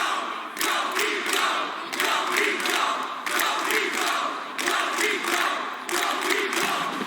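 A large arena crowd roars and cheers through a League of Legends EU Masters finals match between BIG and GIANTS, a loud sustained swell of voices that rises and falls in waves without a break.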